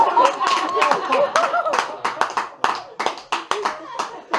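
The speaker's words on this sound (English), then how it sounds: "That joke doesn't normally get applause." A comedy club crowd at a stand-up gig in Whitchurch bursts into clapping after a joke, dense applause in irregular bursts mixed with chuckles and laughter, fairly close and loud.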